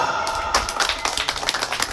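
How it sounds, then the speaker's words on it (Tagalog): A church congregation claps together during a lively worship service, a dense patter of many hands ringing out close and steady, with a rise in intensity partway through. "Palakpak ang gwapa"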